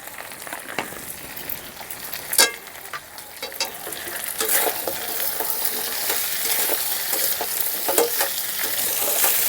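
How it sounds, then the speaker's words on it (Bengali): Cut potatoes fry in oil with a fish head in a pan, giving a continuous crackling sizzle broken by scraping stirs and sharp pops, close and fairly loud, with no talk. "আলুগুলো দিয়ে একটু ভাজা ভাজা করে নেব।"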